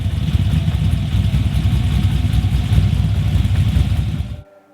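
Deep, throbbing idle of an LS1 V8 swapped into a 1993 Mazda RX-7, a loud, lumpy low rumble heard up close that holds steady before cutting off abruptly near the end.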